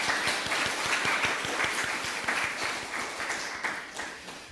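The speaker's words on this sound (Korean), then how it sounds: "또한 감사의 박수 한번 드리겠습니다." Church congregation applauding at a Sunday service marking the church's founding, a dense sustained round of clapping from many people that gradually softens toward the end.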